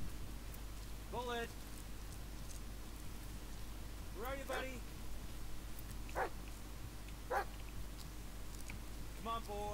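A dog in the horror video game Blair Witch barks and whines several times at irregular intervals, somewhat distant, over a steady rain-like hiss.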